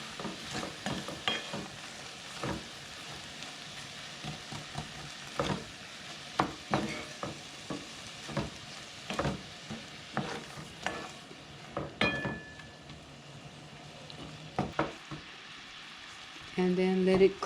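Tamarind candy cooking with brown sugar in a pan gives off a faint, low sizzle broken by scattered clicks and scrapes of stirring, with a short louder burst near the end.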